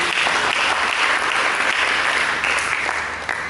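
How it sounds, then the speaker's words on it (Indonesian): A church congregation claps steadily throughout, a dense, loud wash of applause that eases slightly toward the end. "Berikan tepuk tangan bagi Dia"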